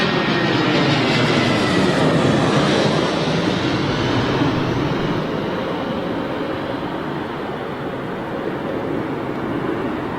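An Aer Lingus airliner passes on arrival at London Heathrow, a broad continuous engine roar that stays loud and fairly steady throughout, easing only slightly toward the end; no voices.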